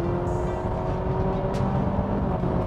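Steady, dense engine drone with a sustained tone from a Honda Accord hybrid accelerating in sport mode, the simulated engine sound holding constant and loud from start to finish.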